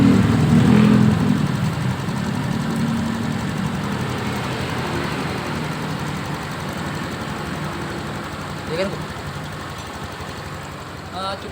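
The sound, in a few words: motorcycle fuel-injection engine running after servicing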